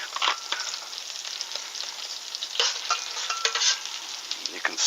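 Garlic fries in oil with shrimp, giving a close, continuous crackling sizzle with small pops and stirring clicks throughout.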